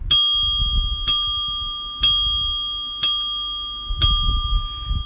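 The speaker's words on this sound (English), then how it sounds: "There's 4 bells for Left Behind." A bright bicycle-style bell used as a livestream alert rings five separate times, about once a second, each strike clear and ringing out alone over a quiet background.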